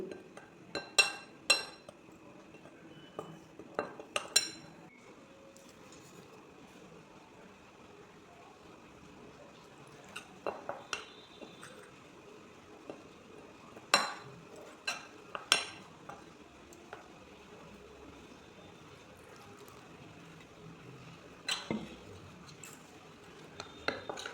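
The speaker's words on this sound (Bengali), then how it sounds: "এখন এগুলোকে একটু ভালো করে মিক্স করে একটু জল দিয়ে গুলে নেব" Spices such as salt and turmeric powder being stirred with a little water in a bowl for a stuffed kakrol (spiny gourd) filling, heard as intermittent clinks of a utensil against the bowl in short clusters, close and fairly quiet.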